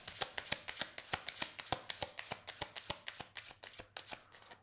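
Tarot cards being shuffled by hand, a brisk run of crisp riffling slaps in a fast irregular rhythm, close and fairly quiet, with no talking.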